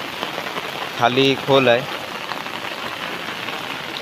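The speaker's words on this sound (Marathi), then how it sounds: "आणि फुल जोरात पाऊस पडतोय" Heavy monsoon rain in the Konkan pours steadily in a loud, constant hiss over flooded ground, with someone briefly speaking over it near the middle.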